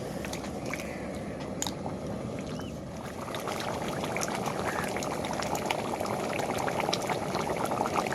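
Chicken boiling in water in a wok, cooked for a chicken kasha, gives a steady, close, continuous bubbling and rolling simmer that holds for the whole stretch with no voices.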